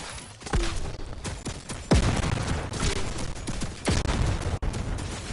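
Turret gunfire in the Fortnite video game: dense, continuous bursts of rapid shots with several sharper loud cracks standing out, sustained throughout with no talking.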